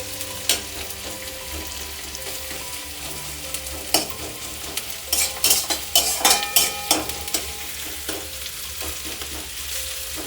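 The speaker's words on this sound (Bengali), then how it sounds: "কাঁচামরিচ আর পেঁয়াজ কুচি দিয়েছি হালকা নাড়াচাড়া করে নেবো" Chopped green chillies and onion sizzle steadily in a hot pan, with a cluster of sharp scraping stirs and spatula clinks in the middle of the clip and no talking.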